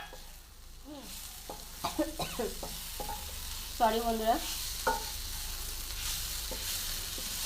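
Banana stem fries in oil on a low flame without water in a pan and is stirred, giving a steady soft sizzle broken by scraping and clattering stirring strokes, with a brief spoken remark partway through.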